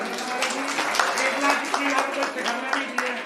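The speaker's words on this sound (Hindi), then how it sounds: "एक बार जोरदार ताली बजा देंगी।" Loud, steady applause from an audience at a Jain temple ritual festival, dense clapping that holds evenly for a few seconds without a break.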